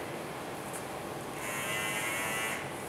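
A Robinair refrigerant identifier hooked to power gives a faint, steady electronic buzz, with a brighter tone swelling partway through and then fading, with no voices.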